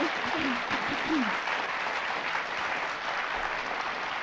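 Steady applause from the studio audience of a 1995 Polish television dating show, dense clapping held at an even level throughout, with a voice briefly speaking over it at the start.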